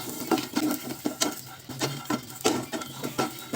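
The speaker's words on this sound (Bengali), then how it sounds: "একটা প্যানে কিছুটা বাদাম, কিছুটা কাঁচা লঙ্কা, কিছুটা রসুন, কিছুটা পেঁয়াজ দিয়ে ভালো করে নেড়ে চেড়ে একটু ভাজা ভাজা করে নেব" Peanuts, green chillies, garlic and onion stir-fried in a pan, with repeated scraping and clinking of a spatula against the metal in an uneven rhythm, close and moderately loud, no talking.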